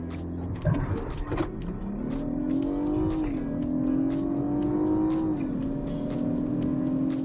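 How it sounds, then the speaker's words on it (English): A BMW F30 sedan accelerates hard at full throttle with traction control off, a loud, steady engine note climbing through a long pull, dipping briefly at a gear change and rising again close by. "Sport Plus traction control is off. Okay, so we're going to floor the throttle."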